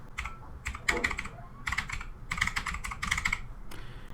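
Close, crisp keystrokes on a computer keyboard come in quick clusters with short pauses between bursts, no voices.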